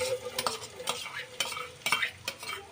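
Onions are dropped into a pan of already-toasted cumin and sizzle while being stirred, and a spoon scrapes and taps against the pan in repeated bursts about every half second. No voices are heard.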